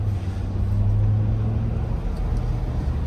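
A Ford F-250 Super Duty pickup's diesel engine, rated near 500 horsepower, rumbles steadily at a low, even idle throughout, close and continuous with no talking over it.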